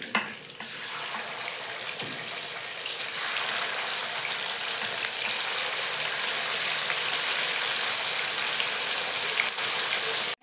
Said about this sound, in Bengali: লাল লাল করে ভেজে নিচ্ছি